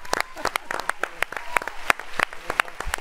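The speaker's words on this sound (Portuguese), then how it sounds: "Palmas pro Pet" A studio audience on a Fox sports show claps for Pet in quick, uneven bursts, with voices talking over the applause throughout.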